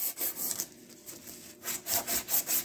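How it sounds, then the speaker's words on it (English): Emery cloth rubs the clutch pilot retainer on a 1948 Ford 8N tractor in quick back-and-forth strokes, a close, rhythmic rasping that pauses briefly midway and then resumes. "we'll just kind of give this a spruce up with some emery"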